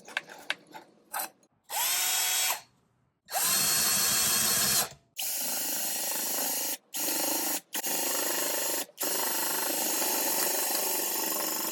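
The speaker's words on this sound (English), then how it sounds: "This is what you call a drill shear." A power drill fitted with a drill shear whines in repeated loud bursts separated by short pauses, with metallic scraping and clicks from the cutter as it works through thin sheet metal.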